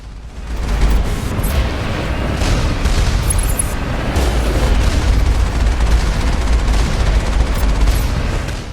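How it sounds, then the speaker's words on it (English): A turret in the game Mass Effect fires, with a heavy boom from its main gun followed by bursts of bullets. The loud, dense barrage of booming gunfire continues across the whole stretch with no talk. "It's like a shot from the main gun, then some bullets, and then it's dead."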